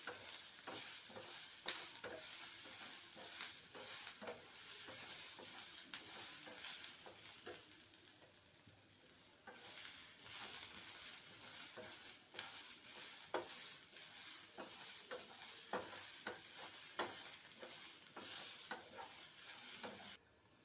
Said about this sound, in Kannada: ಸ್ವಲ್ಪ ಕೆಂಪಗೆ ಹುರ್ಕೋಬೇಕು.